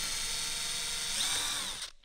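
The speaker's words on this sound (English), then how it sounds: "So I should be able to drill my pilot hole." Power drill boring a pilot hole in wood, a steady whining motor hum for about two seconds that cuts off abruptly, heard alone and fairly faint.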